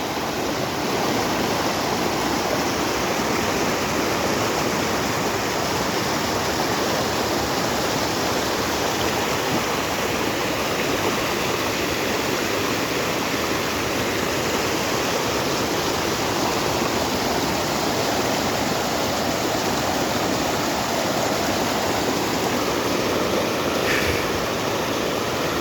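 Powerful water current rushing through the rubber dam at Chapainawabganj, Bangladesh, a dense continuous roar heard close and steady throughout, with no voices over it.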